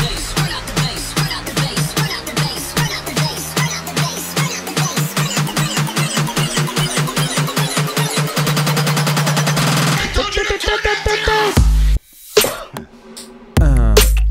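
Hybrid trap build played back, rapid electronic drum hits speeding into a dense roll over a rising synth for about ten seconds, then choppy stuttering bursts with brief silent gaps, loud and with no voices.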